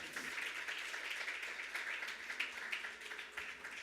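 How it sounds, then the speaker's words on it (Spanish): A church congregation applauds during a Spanish-language sermon, a continuous patter of many hands clapping at moderate distance, steady throughout. "Denle un aplauso a Jesús en este lugar."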